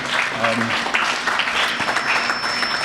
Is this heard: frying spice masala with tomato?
no